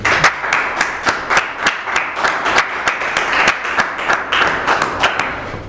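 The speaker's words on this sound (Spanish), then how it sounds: "Pido un aplauso para el ponente." A lecture audience applauds the speaker with loud, close clapping in a steady rhythmic pattern of distinct claps throughout, with no talk over it.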